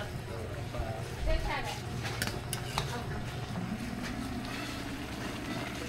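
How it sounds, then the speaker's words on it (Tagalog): Adobo being stirred in a cooking pot: soft scraping and clinking of a utensil against the pot under steady background noise, with people talking over it. "hahaluin pa ulit isang halo ni Boss JR."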